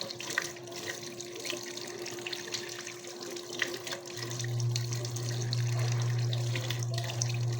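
Water runs from a tap during laundry work, a steady gushing stream that grows louder and fuller partway through, over faint household background noise with no talking.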